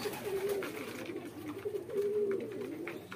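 Pigeons coo softly in low, rolling calls repeated over a few seconds, nearby in a breeding loft with chicks in cells, against quiet background noise.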